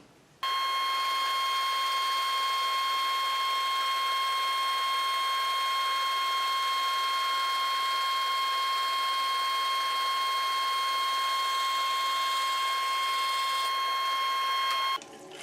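A bandsaw fitted with an Accu-Slice resawing system slicing a very thin board, giving a steady, loud mechanical whine with bright sustained tones, running evenly for the whole stretch before stopping abruptly at the end.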